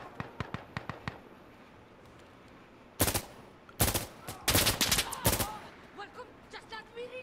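Gunfire in the PS5 video game Insurgency: Sandstorm, first a string of sharp single shots, then loud rapid bursts of automatic fire in clusters, fading into scattered pops at the end.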